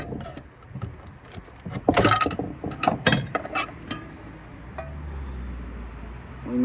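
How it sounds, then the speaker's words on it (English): A brass connector is being pried off a cell tower antenna, producing close metallic clanks, ratcheting scrapes and rattling mechanism sounds in irregular bursts, then easing into a quieter rumble. "I'll just pry this off."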